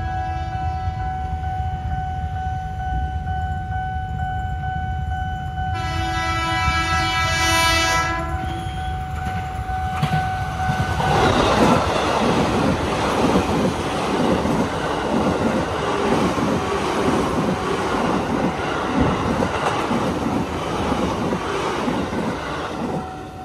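Commuter trains pass a railway level crossing at Pasar Minggu, including one meeting a coal train. A horn sounds early, then a loud, sustained rumble and clatter of railcars rolls through close by, with no talk.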